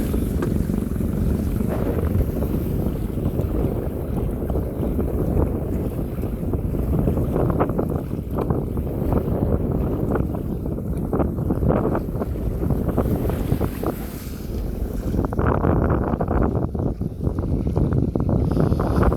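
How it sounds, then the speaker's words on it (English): Wind gusts buffeting the microphone while sailing a canoe on the South Devon coast between Aveton Gifford and Hope Cove, a loud continuous low roar of wind with rushing water and hull noise. "I like it when a gust comes, it's good."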